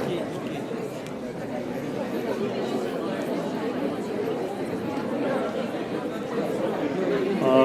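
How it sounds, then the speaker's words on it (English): Crowd chatter and commotion among students at a senior high school maths quiz in Nairobi, many overlapping voices murmuring steadily at moderate volume and growing slightly louder toward the end. "Could we please have less commotion in the crowd?"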